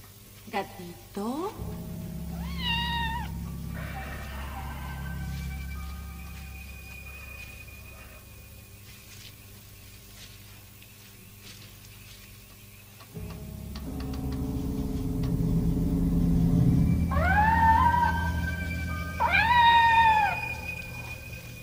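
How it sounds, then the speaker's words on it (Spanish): A cat meows several times, drawn-out rising and falling cries near the start and again toward the end, over a steady ticking clock and low ambient hum; a voice speaks between them. "Gatito, te escucho,"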